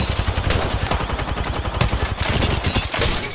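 In a shooter video game, automatic gunfire rattles out in one loud, close, continuous burst of rapid shots.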